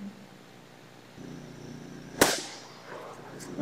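A single sharp, loud gunshot from a .44 Magnum handgun rings out mid-clip over low background noise and then decays quickly into a brief echo.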